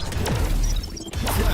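A flash grenade goes off in Valorant, a loud crashing burst with a brief whoosh at the start and another sharp hit near the end, close and dense over game noise.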